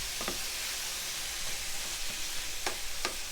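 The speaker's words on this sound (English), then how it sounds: "Now what I'm gonna do is I'm gonna cook this. We're browning up the meat" Ground meat browns in a hot frying pan, sizzling steadily with a continuous bright crackling hiss and a few soft scrapes of stirring.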